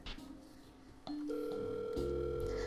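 A telephone dial tone sounds during a call, starting after a short dialing pause and holding a loud, steady pitch that shifts into a second steady tone near the end.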